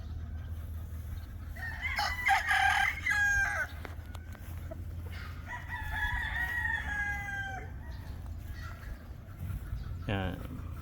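Pullets and hens on a farm cluck and crow in several bursts, one near and loud, others softer, over a low steady hum, with a brief rasping call near the end.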